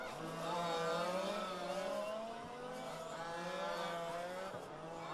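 Fifth-scale 4WD spec RC race cars buzzing around a track in a main event, their high whining engines overlapping in a continuous drone that rises and falls as the pack passes, with no voices.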